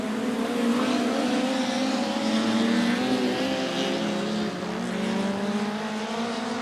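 Short-track race cars roar around the track on the last lap of a Super Short Track Racing Series event, several engines blending into a loud, continuous drone with shifting pitches as the pack passes.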